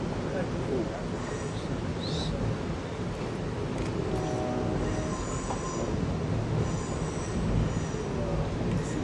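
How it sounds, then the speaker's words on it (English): Amtrak Coast Starlight passenger train passing nearby, a steady heavy rumble of rolling cars with intermittent high wheel squeals, continuous and loud throughout. "Sometimes the most exciting sight is the train itself."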